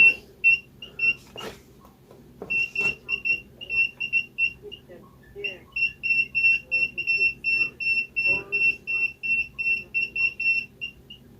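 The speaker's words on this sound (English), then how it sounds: "So it beeps and tells you, hey, you're not quite level" Steady, rapid electronic beeping from a laser transit signaling it is not level, short repeated pulses, fairly loud and close, with a brief pause midway, over a low background hum and some handling noise.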